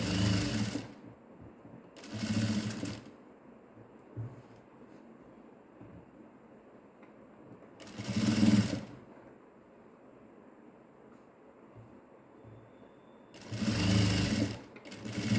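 A sewing machine stitches a collar neck in short loud bursts, running roughly a second each at about two, eight and fourteen seconds, with quiet gaps and faint low rumble in between; no one speaks.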